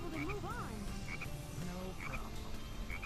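Repeated frog croaks from the video game Sonic Heroes, clear and close, recurring in short bursts over looping game music and effects.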